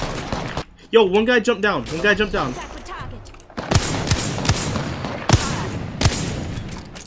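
Gunfire rings out in the battle royale game Apex Legends, sharp shots and bursts in the background, while a player talks over them in the opening seconds.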